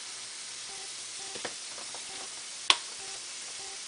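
Ground beef sizzles steadily while browning in a pan, a constant close hiss broken by a few faint clicks and one sharp utensil tap.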